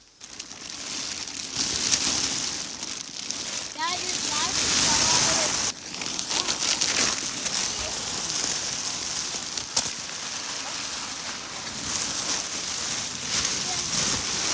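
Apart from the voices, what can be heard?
apples falling from tree onto tarp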